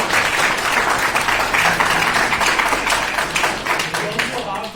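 Audience applause fills a moot court event hall, a dense, steady wash of many hands clapping at fairly close range, holding strong for about five seconds before easing slightly at the end.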